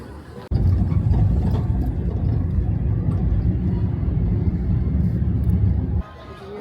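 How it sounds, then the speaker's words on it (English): Steady low rumble of a taxi moving through Mexico City traffic, a continuous engine and road drone that starts abruptly and holds for several seconds before dropping off near the end. "that's why we gotta take a taxi to get there"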